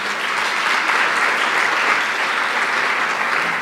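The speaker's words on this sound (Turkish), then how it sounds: "hepinizi tekrar bir alkışlayın bakalım" A seated audience at a women-in-technology event claps in a steady, dense round of applause that continues evenly throughout, without talk over it.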